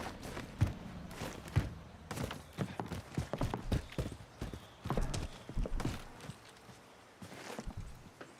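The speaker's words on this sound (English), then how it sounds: "Yeah, I heard those footsteps." Footsteps in Call of Duty: Warzone, an uneven run of soft, close thuds and scuffs that rise and fall over a quiet game background, with no talking.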